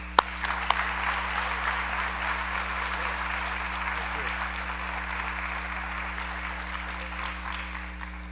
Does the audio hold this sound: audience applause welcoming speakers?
yes